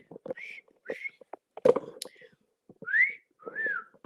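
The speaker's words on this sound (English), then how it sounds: "Lost my whistle again. I'm losing my whistle." A person whistles a short, wandering tune in separate bursts, some notes gliding upward, with soft breathy noises and light clatter between phrases.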